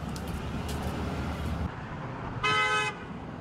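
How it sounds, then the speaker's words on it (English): A car horn gives one short honk from a passing vehicle in support, loud and close, following steady road traffic noise with no one speaking. "passers-by gave a honk in support"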